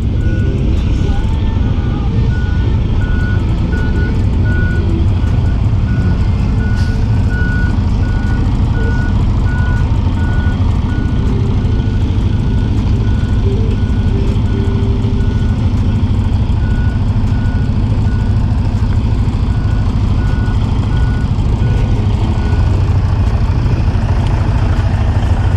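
A truck backs up at a tight Old Dominion freight terminal in Richmond, Virginia, its steady reversing beeper repeating loudly over a constant heavy diesel engine rumble.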